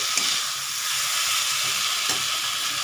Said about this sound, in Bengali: একটু কষানো হয়ে যাক